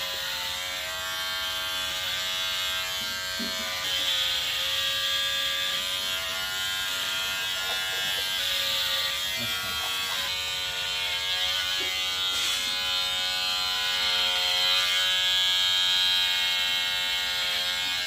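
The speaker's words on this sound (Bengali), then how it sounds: "মেশিনটা প্রচুর সাউন্ড করছে।" A loud, steady electric hair clipper drones without a break, its bright buzzing motor tone holding close and constant from start to finish.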